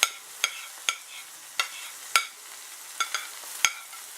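Sliced red pepper and tinned bamboo shoots being stir-fried for chicken chow mein with pork and prawns, with a soft sizzle under about eight sharp scrapes and clacks of a utensil against the pan at uneven intervals.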